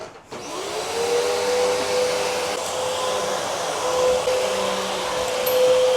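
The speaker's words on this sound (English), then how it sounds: "Time to vacuum." A vacuum cleaner runs while someone cleans a living room, a loud steady whine with a constant motor tone that holds for the whole stretch after a brief start, with no talking.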